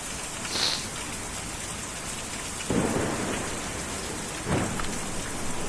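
Steady rain pours down in the video game Kentucky Route Zero while deep thunder rolls in, with a few distinct rumbles rising over the constant downpour.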